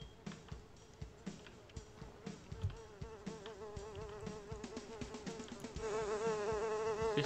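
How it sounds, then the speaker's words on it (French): Fly buzzing in a video game, a steady droning hum with wavering pitch that runs throughout, growing louder and closer near the end, no speech over it. "Qu'est-ce que tu fais là, mouche?"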